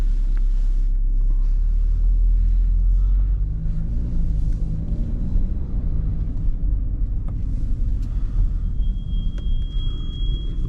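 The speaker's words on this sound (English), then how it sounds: "Let's go for a drive in the A6." A 2019 Audi A6 Avant 40 TDI with a 204 hp 2.0 diesel drives along, its steady low engine and road rumble heard from inside the car with wind noise and no talk.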